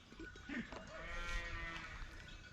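Sheep bleat on a farm with a low hum behind them, their calls sounding close and moderately loud. The bleats run in a steady cluster.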